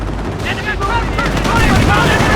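Sustained gunfire from a World War II battle near Carentan in the Company of Heroes video game, with dense overlapping rifle and machine-gun bursts, loud and continuous, and voices calling out over the shooting.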